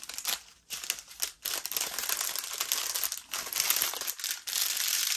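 Diamond painting drills poured from small plastic packages into a tray: a continuous crinkling and rattling of tiny resin pieces and plastic bags, close up, with brief pauses between pours.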